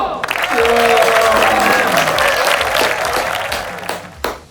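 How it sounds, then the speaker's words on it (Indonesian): Audience applause at a high school concert, dense clapping loud from the start and filling the hall, with cheering voices mixed in, then tapering off near the end. "Beri tepuk tangan yang meriah untuk Tono."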